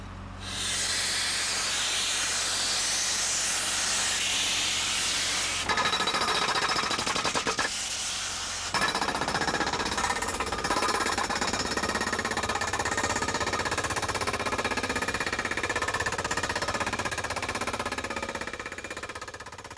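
Loud, continuous hissing and grinding roar of a heavy drill rig driving casing tube into the ground as the bit drills, steady throughout with a short shift in texture partway through.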